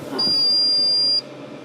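A single steady high-pitched electronic beep from a home appliance alarm sounds for about a second, clear and close, over faint room noise.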